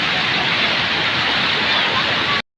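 Waterfall at a formerly broken bridge, now a place where residents come to visit; a steady, loud broadband rush of falling water runs unbroken for over two seconds, then cuts off abruptly.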